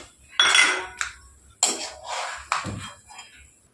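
Fried cashews and peanuts are lifted out of a pan, giving three separate clattering scrapes and clinks of metal utensil against cookware at close range, with no speech.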